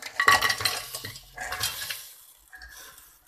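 Okra with minced garlic and ghee is stirred in a pan, giving close metallic scrapes and clinks of a utensil against the pan in a short burst of strokes that fades toward the end.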